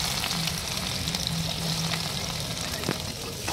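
Whole cumin seeds, dried red chillies and black peppercorns frying in hot oil as a tempering, giving a steady dense sizzle and crackle throughout, close and loud, with a faint low hum underneath.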